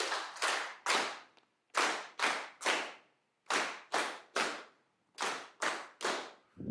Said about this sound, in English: we'll give them a wholesale round of applause